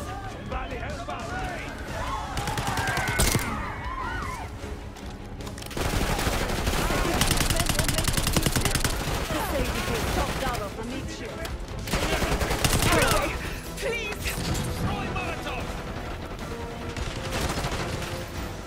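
Gunfire in the Call of Duty video game, dense bursts of automatic and rapid shots layered over game sounds and shouting voices, loud and sustained throughout with intensity rising and falling.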